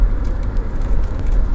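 A turbocharged car engine in fifth gear at full throttle gives a loud, close, continuous low roar with steady buffeting throughout the short stretch, and no voices.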